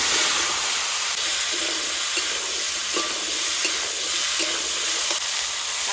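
Potato and papaya pieces frying together in an oiled pan, a loud continuous sizzle with periodic stirring scrapes of a spatula throughout.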